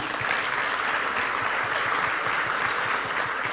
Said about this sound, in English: may we get a round of applause, please, to our event